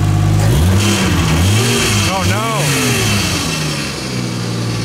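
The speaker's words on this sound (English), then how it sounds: "then all of a sudden you like give it a little rev" A Nissan S14 car engine with an added supercharger, revved from idle into several rising and falling swells with a whine on top, loud and close, while a person exclaims briefly.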